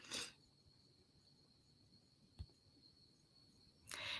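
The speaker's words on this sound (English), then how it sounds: "Those crickets are way loud" Crickets chirp as a steady, faint high-pitched trill running continuously through the background, with a brief thump and a burst of noise at the start and end.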